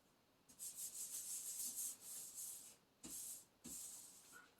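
A few drops of money oil rubbed in by hand, giving soft dry swishing friction strokes in several bursts with short pauses, close and quiet.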